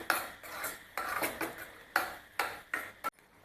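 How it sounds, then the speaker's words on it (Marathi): A metal spatula scrapes and clatters against a pan as masala paste for egg curry is sautéed, in a run of short, fairly close bursts with brief pauses between strokes. "वाटण आहे चांगलं तेल सुटेपर्यंत परतून घेऊया।"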